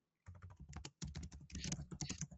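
Rapid fingers clatter on a computer keyboard up close during an online call, an uneven flurry of crisp key clicks with a brief pause near the one-second mark before the tapping resumes.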